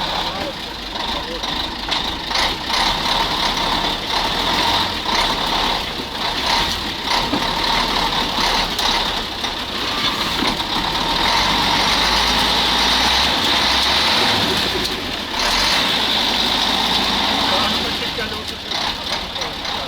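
A Praga V3S 6x6 truck on big wheels runs its engine in a swamp, with a steady, close diesel rumble lasting throughout while people talk over it.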